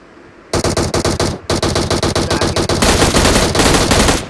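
Automatic gunfire in PUBG on the Erangel map, loud and close: rapid bursts of rhythmic shots, a short pause, then a denser, sustained volley to the end, with no talk.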